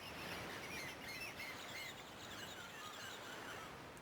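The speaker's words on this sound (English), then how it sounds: "Seagull.mp3." Seagull cries in a video game, a steady wash of chirping bird calls over a bed of ambient noise, continuous and moderately loud with no talking.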